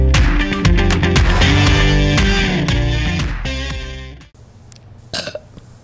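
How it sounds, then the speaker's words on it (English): A long, loud, croaky burp rumbles for several seconds up close, followed by a brief quieter pause and a short rustle. "That's not what you say after a burp."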